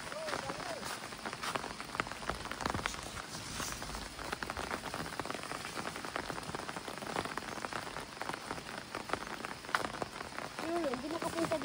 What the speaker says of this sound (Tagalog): umuulan eh. Umuulan.